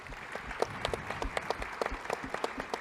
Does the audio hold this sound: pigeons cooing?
no